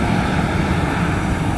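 Steady, loud aircraft engine roar from a departing airliner bound for SeaTac, a continuous broadband rumble that holds even throughout with no voices.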